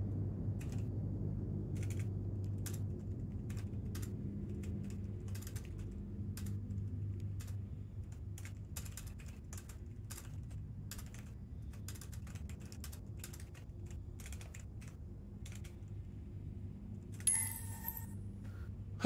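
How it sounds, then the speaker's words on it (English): Keys clatter on a computer keyboard in short irregular bursts of quiet clicks over a low steady hum, with a brief louder clatter near the end and no voices. "I'm just typing in the channels."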